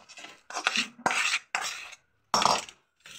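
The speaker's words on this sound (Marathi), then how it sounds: "आणि पटकन आता हे आपण ताटामध्ये टाकून घेऊ" Hot peanut chikki mixture is scraped from a pan onto a plate, making a series of sharp metallic scrapes and clanks in short separated bursts, close and clear with no talking.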